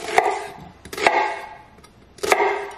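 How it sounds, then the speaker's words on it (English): Knife chopping vegetables into big pieces on a cutting board for blender salsa, three sharp close strikes spaced about a second apart, each followed by a brief scraping rustle. "I'll chop it up like in big pieces because, again, the blender does it for you"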